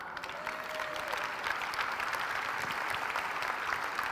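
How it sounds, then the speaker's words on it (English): Audience applause at a festival talk during a product launch, a steady even burst of clapping from a crowd filling the whole stretch, moderately loud and continuous. "yeah, you can clap"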